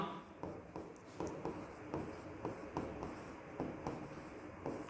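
Writing out a Class 10 maths solution, heard as faint, close scratchy strokes that repeat in a steady rhythm of short bursts. No speech is heard.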